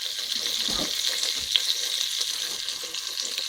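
Potatoes sizzle steadily in a pan with cumin as they fry for kachri bateta, a continuous close crackling hiss with a brief stirring clunk.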